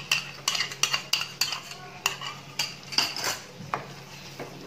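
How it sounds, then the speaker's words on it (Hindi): Spoon stirring yogurt into a chicken biryani mixture in a metal pot, with a string of regular scraping clinks against the pot sides, close and clear, with no talking. "अब हम इसमें ये जो हमने दही लिया था ये भी इसी में ऐड कर देते हैं।"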